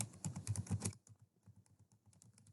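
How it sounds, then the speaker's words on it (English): Quick computer-keyboard typing of a library database search, a dense burst of key clicks for about a second, then slower, softer scattered taps, close and alone without talk. "I would type that in with my quotation marks"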